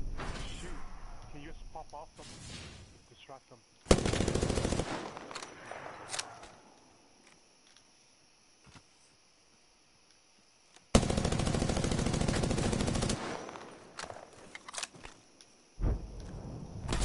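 Apex Legends gunfire comes in two long, loud automatic bursts with a few scattered single shots, interleaved with quieter game sounds and someone talking.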